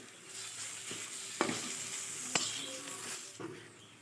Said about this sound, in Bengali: আমাদের ভাজা প্রায় হয়েই গেছে।